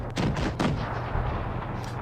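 Tank gunfire in a tank battle video game, a couple of sharp heavy cannon shots close together near the start, followed by a rolling low rumble.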